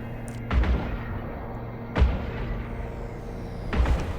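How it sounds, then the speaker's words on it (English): Civilian Gatling railguns in the space game Eve Online fire three deep, booming, evenly spaced shots over a low humming background. "So I just turned on the guns."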